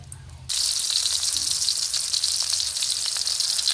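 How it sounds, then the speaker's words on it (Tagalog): Cooking oil heating in a hot wok (kawali) bursts into loud, steady sizzling and crackling after a short quiet start, then continues close and unbroken. "medyo mainit na po yung kawali at maglagay na po tayo ng mantika"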